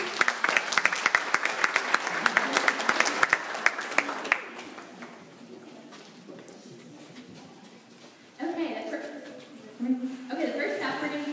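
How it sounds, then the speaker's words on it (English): Applause from a classroom or small audience for a girl named Annabelle, dense clapping for about four seconds before fading, followed by a voice and light talk. "Can everyone give Annabelle a round of applause for helping me?"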